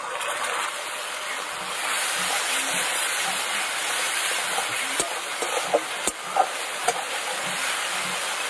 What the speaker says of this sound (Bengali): পেঁয়াজ রসুন আদা টমেটো সব ভালো করে একদম কষিয়ে নিয়েছি